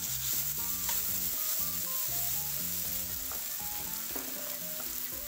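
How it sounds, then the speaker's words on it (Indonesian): Sausage stir-frying in a pan for homemade spaghetti, a loud continuous sizzle under music with a clear melody, no talking. "Tumis. Ya, sekarang kita masukkan sosis"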